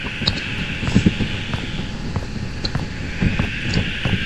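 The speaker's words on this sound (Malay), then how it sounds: "bunyi angin kat sini" Wind blows outdoors at night around a school's security post, a steady breathy rush with soft rustling and occasional faint clicks, fairly close and continuous with no talk.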